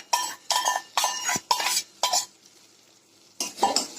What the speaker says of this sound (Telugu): కలుపుతూనే ఉండాలి. చూడండి, కలుపుతూనే ఉండాలి బాగా.